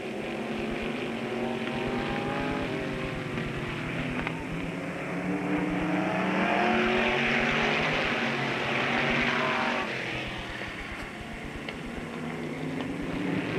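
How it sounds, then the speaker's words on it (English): Race cars in a modified qualifying heat at Avilla Motor Speedway roar back up to speed on the restart, a dense, sustained engine drone that swells and recedes as the pack passes, with no talk. "Here we go for the restart. Modified qualifying heat. We're racing."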